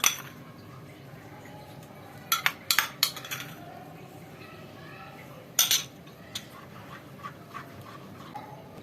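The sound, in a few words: stirring cream into kunafa cheese mixture in a pan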